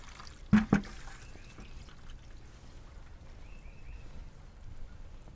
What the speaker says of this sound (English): now we're gonna open it up. And that vinegar mixture is coming out.